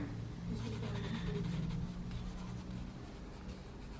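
Pencil scratches steadily across plywood while tracing marks during a vintage boat restoration, a continuous close rubbing that lasts throughout.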